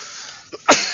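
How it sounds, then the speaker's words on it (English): A man coughs once, short and sharp, during a Bible reading. A fainter throat sound comes just before it, all over a steady background hiss. "Excuse me for the coughing, brothers."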